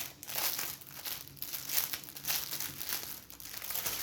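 A crinkly plastic bag of diamond painting drills is being pulled open, with close, continuous crackling and crumpling rustles in uneven bursts and no talking.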